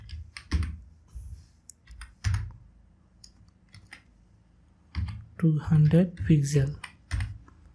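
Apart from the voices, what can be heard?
typing on a computer keyboard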